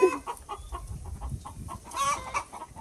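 Broody hens clucking in a homestead chicken coop, a series of close, rhythmic low clucks and short squawks with no talking.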